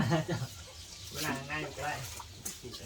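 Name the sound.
chicken clucking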